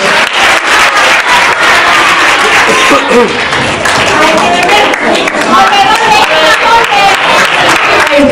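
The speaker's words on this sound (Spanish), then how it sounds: "Un aplauso para todos." Loud, dense applause with some cheering from a crowd at a school circus performance, continuous and close throughout.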